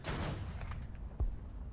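In War Thunder, 30mm cannon shells strike a tank: a few dull, booming impacts with a heavier thump near the end, set against low rumbling battle noise and no talk.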